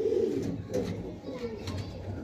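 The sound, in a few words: pigeon cooing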